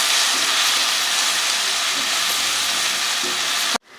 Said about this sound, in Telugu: ఇప్పుడు వెల్లుల్లి ముక్కలు, పుదీనా, కరివేపాకు ఇవి కూడా వేసి ఒక సెకండ్ నుంచి ఆపేసేయాలి